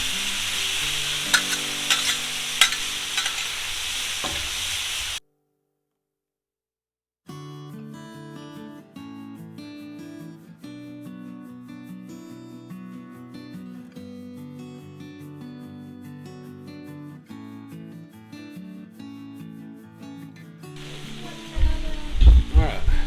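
Cheesesteak meat sizzles on a Blackstone griddle with a loud, hissing crackle for several seconds. The sizzle then cuts to silence, followed by a long stretch of music, and returns briefly at the end.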